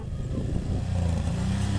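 A quad bike engine drones steadily and loudly with a rough, throaty rumble, held under throttle throughout while climbing a sand slope.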